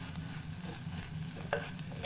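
Egg masala with garam masala sautés in a pan for a Kerala mutta varattiyathu: a quiet, steady sizzle with soft stirring scrapes and a brief clink midway.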